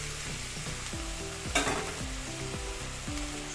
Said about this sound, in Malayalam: ഉള്ളിയൊക്കെ നല്ലപോലെ ഒന്ന് വഴണ്ട് വരുമ്പോൾ